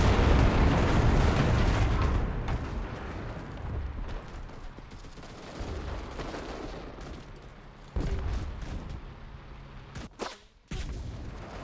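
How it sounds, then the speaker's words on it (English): Artillery strike in the World War II shooter Enlisted, Normandy campaign: a heavy rumbling barrage opens loud, then fades to a sustained roar with scattered blasts and a fresh burst near the end, all without voices. "Oh yeah, the artillery strike, I forgot."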